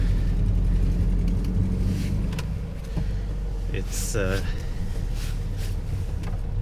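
Car on summer tires trying to move on snow near an off-grid cabin, its engine droning steadily and loudly with a brief rising whine midway as the wheels spin.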